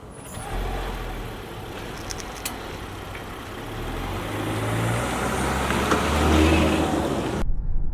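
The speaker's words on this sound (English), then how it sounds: "What a beautiful day to take this Defender for a little ride down Lookout Mountain in Colorado." Land Rover Defender driving down Lookout Mountain in Colorado, a steady low engine and road rumble heard from inside the cabin, fairly constant and moderately loud, swelling slightly toward the end.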